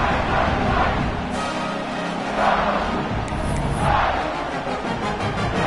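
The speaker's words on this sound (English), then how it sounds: "this crowd is buzzing after that last score" A football stadium crowd right after a touchdown and extra point keeps up a dense, loud, continuous roar and buzz, with swells of cheering rising and falling and no voice standing out.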